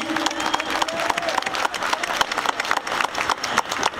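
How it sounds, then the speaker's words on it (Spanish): Audience applause at a socialist political forum in Spanish, dense clapping across the whole stretch with a thin tonal line near the start, steady and fairly loud, no talk over it. "Un aplauso, por favor, compañeras y compañeros,"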